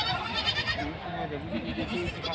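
Goats bleating in a busy livestock market in Gangakhed, with repeated close calls rising over constant crowd chatter and someone talking throughout.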